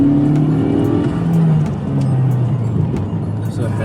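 A Mercedes-Benz E coupe (C207) in sports mode downshifts and revs. The engine drone rises and drops in pitch as gears change, a steady close hum with soft ticking over road noise.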